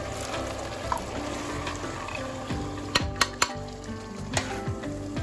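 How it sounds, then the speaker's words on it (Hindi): Bottle gourd and Bengal gram sizzle as they fry in a spiced masala in a pan, with a steady hiss under stirring and several sharp clinks of a utensil against the metal pot. "इस वक्त हम दाल और कद्दू इसमें शामिल कर देते हैं।"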